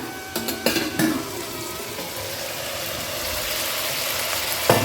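Steady sizzle of mixed vegetables for Bengali shukto frying in a pan, with a few scraping clinks of a spatula stirring near the start and again at the end.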